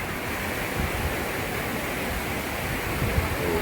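Sinnakallar waterfall in Valparai, a steady broadband rush of falling water, loud and unbroken with no voices.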